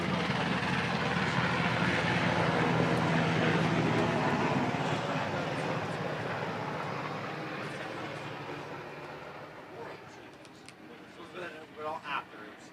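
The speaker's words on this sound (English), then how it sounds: "We now have the medevac helicopter overhead." A medevac helicopter passes overhead at a youth fours rowing race on the Charles River, its broad rumbling roar loudest early on, then slowly fading over several seconds, with faint voices and scattered sounds near the end.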